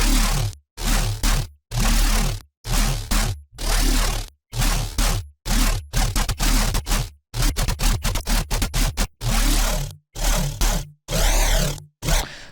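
Serum synthesizer preset played in Ableton, a run of loud, gritty, distorted synth stabs in a choppy rhythm separated by brief silences, with no talk.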